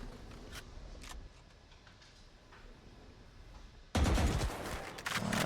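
A gunfire exchange in a Valorant match: scattered shots crack over a quiet stretch, then a loud sustained burst of rapid firing takes over near the end.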